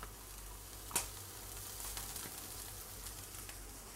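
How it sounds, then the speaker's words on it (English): Cabbage and broccoli stems sautéing slowly in oil over steady heat give a soft, continuous sizzle, faint and close, with a few brief crackles and no talking. "I'm just gonna slowly saute this until it's just soft"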